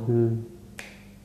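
Finger snaps mimicking the jingle of anklet bells for a horror song set on a beach, heard as a single crisp snap after a brief hummed tone, close and fairly quiet.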